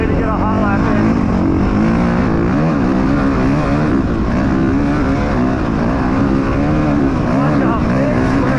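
A motocross bike rides an easy sight lap around the Mammoth track, its engine droning loud and close throughout with rising and falling revs under wind rush, while a rider's voice talks over it.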